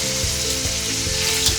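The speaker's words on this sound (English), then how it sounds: "Oh, you can hear that sizzling" Chicken browns in a hot frying pan, giving a loud, dense, continuous sizzle close up with a steady low hum underneath.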